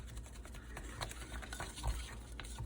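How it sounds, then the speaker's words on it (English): A food mixture being stirred in a home kitchen, a soft steady scraping and patter with small irregular bumps, heard close and quiet under faint background noise. "Give that a good mix here"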